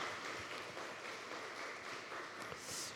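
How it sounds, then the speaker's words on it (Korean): Applause for the worship team at a Sunday church service, steady dense clapping from the congregation lasting the whole stretch, moderately loud and even throughout. "우리 다시 한번 찬양팀 따뜻한 격려의 박수로 함께 하겠습니다"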